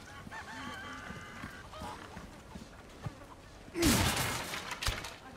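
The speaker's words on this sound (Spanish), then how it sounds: "las gallinas están re locas" Chickens in the Resident Evil 4 Remake video game cluck and squawk in a busy flurry, then a loud burst of flapping and commotion follows near the end.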